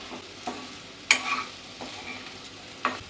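Food is sautéed with salt in a pan, a soft sizzle running under sparse scrapes and clinks of a spatula stirring, close and fairly quiet.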